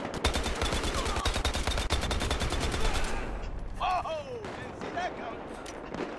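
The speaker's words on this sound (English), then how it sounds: "Start shooting!" Rapid gunfire in the video game Battlefield Hardline: loud, dense bursts of shots hammer continuously for about three seconds, then give way to scattered sharper effects and fainter shots.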